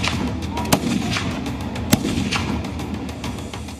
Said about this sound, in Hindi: हर मिनट ये 650 से ज्यादा गोलियां फायर करती है